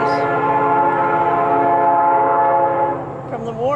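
A passing train sounds a long, loud, sustained horn close by over rumbling railcars, the blast holding steady before cutting off near the end.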